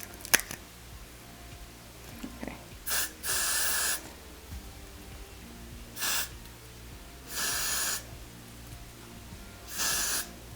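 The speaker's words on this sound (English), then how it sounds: "I'm just going to be putting the freeze spray right here" Four short bursts of aerosol spray hiss, each about a second long, separated by pauses in an otherwise quiet room.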